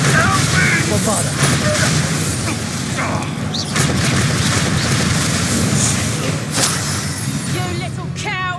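Blasting-spell explosions in the video game Hogwarts Legacy, heavy booms and crashing impacts over a busy battle soundscape, with voices shouting over the din.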